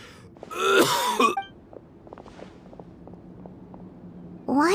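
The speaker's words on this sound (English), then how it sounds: "Why is he coughing?" A character in Genshin Impact gives a rough, throaty cough and clears their throat once, fairly close, then fades into quiet ambience with faint shuffling before another voice starts.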